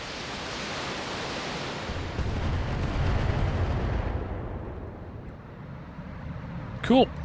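Artillery cannon fire in a video game: a deep, rumbling blast that swells and lingers as a broad roar, then fades, followed by a brief sharp sound near the end; a voice is faintly present.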